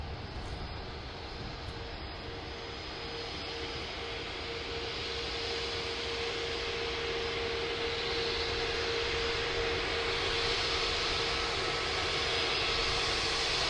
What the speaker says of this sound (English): Jetstar flight 912 just taxiing past.